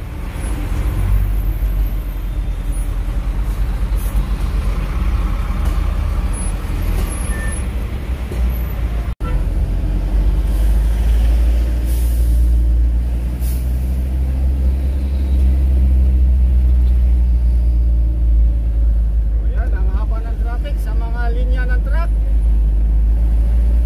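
Heavy midday road traffic during a hot drive home after a delivery, a steady low engine rumble from cars, trucks and buses close around, with a brief hiss like air brakes and a voice speaking over it.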